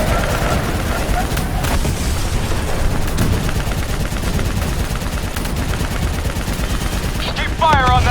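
Sustained rapid turret machine gun fire in a Call of Duty Black Ops 3 vehicle battle, loud and continuous throughout with dense layered battle noise and a brief high whine near the end.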